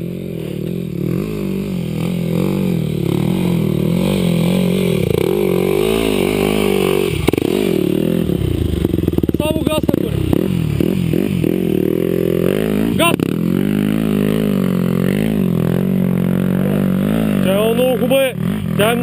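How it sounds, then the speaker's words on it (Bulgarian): A vehicle engine runs and revs repeatedly, loud and close, its deep rumble rising and falling with clattering mechanical noise, while people talk over it. "Двигателът работи много хубаво."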